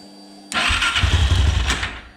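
A turbocharged LTZ400 quad bike engine with Speeduino fuel injection turns over and catches, roaring into a rough, sputtering idle after a short quiet moment, loud and close.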